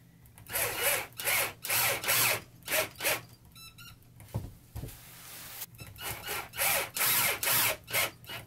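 A power drill whirs in repeated short bursts into wood, pausing between each, with a brief ratcheting click partway through; close and fairly loud.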